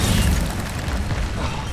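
A fire spell cast in Hogwarts Legacy bursts out as a loud, close whooshing boom, with a dense low rumble that stays steady for nearly two seconds.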